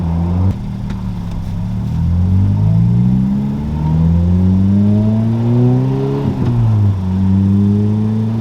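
A 2ZZ-powered car with VVTL-i revs hard in several rising and falling sweeps, the engine note climbing, dropping back and climbing again, loud and close with no talk over it.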